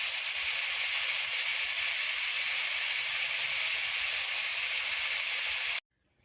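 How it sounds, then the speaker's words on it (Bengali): Cauliflower pieces, steamed beforehand, frying in a wok with salt and turmeric give a loud, steady sizzling hiss that holds evenly before cutting off abruptly near the end. "এবার আমি ফুলকপিগুলোকে লবণ আর হলুদ দিয়ে ভেজে নেব"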